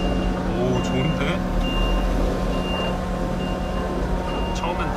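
A dump truck backs in to deliver aggregate at an excavator grading site, its reversing alarm beeping steadily over the heavy diesel rumble of nearby machinery, no talking.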